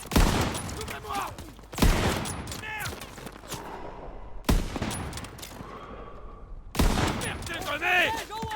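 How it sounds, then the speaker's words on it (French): Gunfire in the WWII shooter Call of Duty WWII: loud bursts of rifle and machine-gun fire in repeated volleys with sharp reports, close and dense, mixed with game battle noise and shouted voices. "On me tire dessus."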